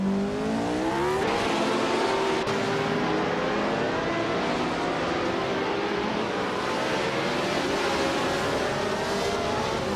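Race cars in a racing video game roar steadily throughout, engine tones rising and shifting as several cars battle for position, with no talking.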